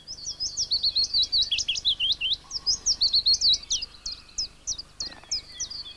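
Willow warbler singing close and loud, a rapid run of sweet, descending whistled phrases repeated in bursts over about six seconds with a faint low background hum.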